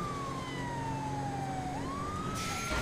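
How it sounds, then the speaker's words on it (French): A police siren from a GTA roleplay video game wails steadily with a slow, gliding pitch that dips and rises again, loud and continuous against a dense background of game noise, with no talking. "Et même le bruit des sirènes, il a changé."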